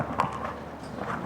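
A show jumping horse's hooves clip-clop on the arena surface at a Global Champions Tour event in Paris, a short run of muffled thuds heard over steady background noise.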